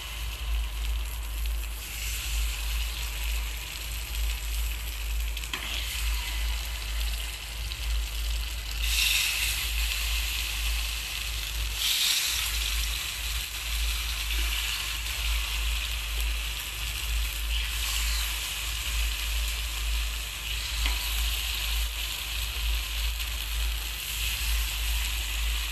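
Fasting appe batter frying gently in oil in a nonstick appe pan over low heat: a steady, soft broadband sizzle with a few brighter swells, close by and continuous with no talking.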